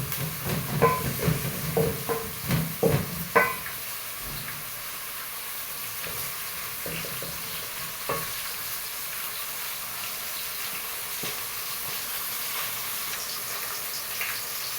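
Ugali omena frying in a pan, a steady soft sizzle running throughout, with a few louder clatters and scrapes of a wooden cooking stick stirring near the start and occasional light knocks later, no talking.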